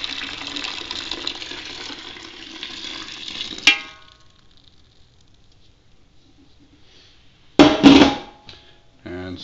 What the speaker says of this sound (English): And stir that up a little bit.